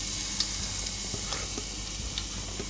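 Grated garlic frying in melted butter for a macaroni pasta soup, a soft steady sizzle with faint crackles and occasional stirring scrapes, close and quiet with no voice.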